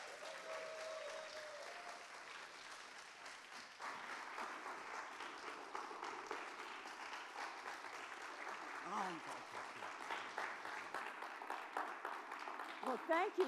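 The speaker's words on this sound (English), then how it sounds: "Please give a round of applause for Professor Camara Jones." Audience applause welcoming a professor to the stage at a university talk, a steady wash of clapping from a crowd that swells toward the end, with faint voices underneath.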